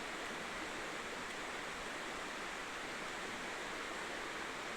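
River water flowing steadily, a dense, continuous rush with no breaks, fairly faint and close, with no voices over it.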